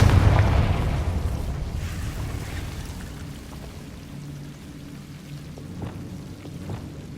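A Confringo fire spell blast in Hogwarts Legacy: a loud burst at the start that rolls off into a long, fading rumble and crackle.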